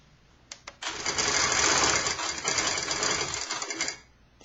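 A sewing machine stitching quilt binding starts after a couple of short taps, then runs at a steady, close whir for about three seconds before stopping. No one speaks.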